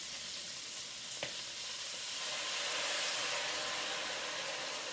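Cabbage sizzles and hisses steadily in a hot pan, a dense close frying crackle with steam, broken by one brief clink early on.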